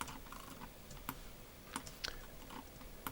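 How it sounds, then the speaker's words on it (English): Scattered clicks of computer keyboard keys being pressed, a handful of sharp, close taps at irregular intervals over faint room noise, no talking. "let's press 1 on our keyboard to look at this all from the front"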